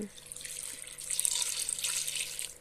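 Water is poured into a pot of black dal, a soft splashing trickle that swells midway and continues steadily, fairly quiet and close.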